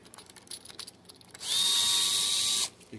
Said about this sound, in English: but I'm going to use a power tool here